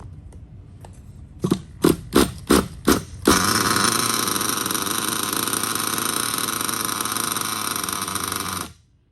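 Nitro RC car engine on a tripod: a few sharp revving bursts from the small glow engine, then a loud, continuous high-pitched buzzing run that holds steady for several seconds before cutting off abruptly.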